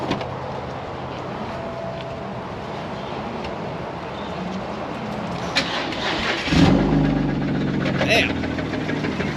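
A BMW M54B30 inline-six in a car cranks and catches, then settles to a low idle with a firmer rev near the end, under steady background rumble while people talk nearby.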